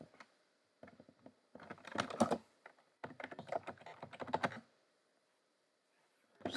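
Quick bursts of typing on a computer keyboard as a curl command is entered, clustered clicks in short rapid runs separated by pauses, close and clear with no talking.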